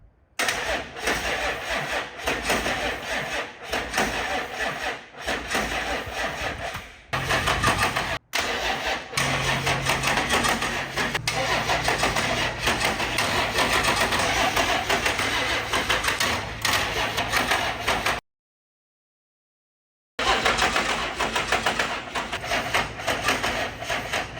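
A Cummins diesel swapped into a Squarebody truck cranks and fires up, a loud, continuous rough engine clatter with pitch shifts as it catches and revs, briefly cutting out before resuming.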